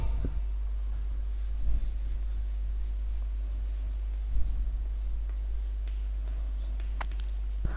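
A pen or pencil scratches steadily across paper while a diagram of joints is drawn, close and continuous with small irregular strokes over a low hum.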